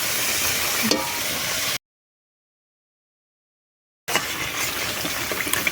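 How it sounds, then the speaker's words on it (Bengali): Water is poured into a cooked spice paste for a Bengali fish curry, giving a loud, close gushing and sizzling pour in two bursts with a silent gap between them. "তো দেখো মশলাটা আমাদের ভালো করে কষানো হয়ে গেছে, এবার এতে দিয়ে দেবো জল।"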